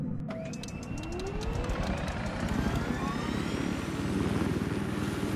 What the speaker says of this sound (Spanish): ¡Hostia, helicóptero! ¡Helicóptero!